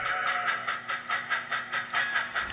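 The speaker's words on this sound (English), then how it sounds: "Here we see extra 3666 West departing Bakersfield, bound for Roseville with a mixed freight." An HO scale model freight train departs on a club layout, giving a steady rhythmic clicking pulse with a faint hiss, close and moderately loud, with no voices.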